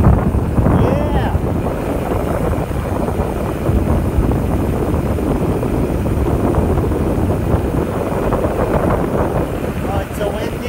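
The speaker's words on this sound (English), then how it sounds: "Oh, it's so windy!" Strong wind on a mountain buffets the microphone with a loud, constant roar and gusty rumble throughout, with excited voices faintly mixed in.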